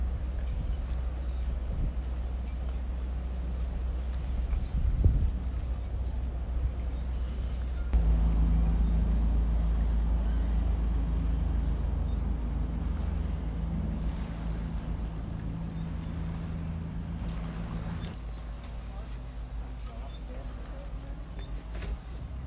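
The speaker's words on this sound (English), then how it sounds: "Now it's where the ferry goes across to Kingswear." A car ferry crosses the river at Dartmouth toward Kingswear, its low engine drone steady under wind buffeting and lapping water, swelling louder midway before easing back.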